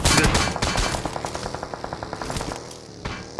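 Rapid automatic gunfire in the mobile shooter game PUBG Mobile, a steady burst of evenly spaced shots running for several seconds at close range, with a louder shot near the start and the end.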